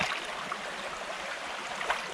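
River water flows steadily in a shallow Welsh river, a continuous broadband rush and gurgle close by with no talk.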